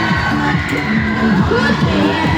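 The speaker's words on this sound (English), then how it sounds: "Let us give her a round of applause." Crowd of students at a high school Pi Day event cheering and shouting loudly, with excited voices rising and falling in a sustained, close roar.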